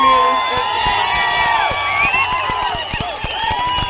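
Loud crowd at a TDP candidate's election rally in Tanakallu, Kadiri, erupting into cheers, whoops, whistles and scattered clapping, a dense close roar with shouting voices throughout.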